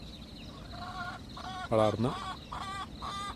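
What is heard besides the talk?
country chickens clucking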